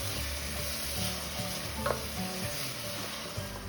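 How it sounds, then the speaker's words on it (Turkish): Steady sizzling of onions sautéing in hot oil with occasional stirring scrapes, close and continuous, no talking. "soğanlarımızı içine alıyoruz ve hafif pembeleşene kadar kavuruyoruz"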